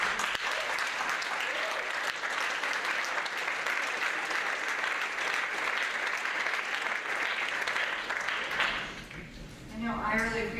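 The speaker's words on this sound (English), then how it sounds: "can we just do a round of applause for the TAs," A classroom of students gives a sustained round of applause for two teaching assistants, loud and steady clapping that fades out near the end.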